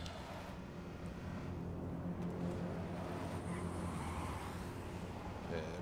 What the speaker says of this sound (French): Par contre, elle sort de nulle part cette voiture.